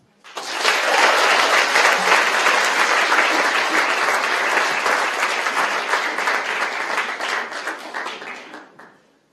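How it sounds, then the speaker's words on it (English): A TEDx audience at Erasmus University Rotterdam bursts into loud, sustained applause welcoming the first speaker to the stage, dense clapping holding steady for several seconds before tapering off at the end. "Not only do you give him a huge round of applause, he's the first speaker"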